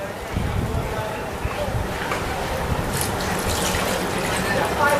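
Water poured into a cut plastic bottle, a steady splashing fill with brief trickles, heard under a person talking.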